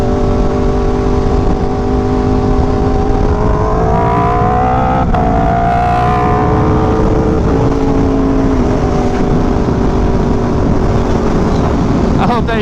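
Aprilia RSV4 1100 Factory motorcycle cruising, its engine droning steadily and loud throughout with rising and falling harmonic tones as revs shift, heavy wind rush underneath.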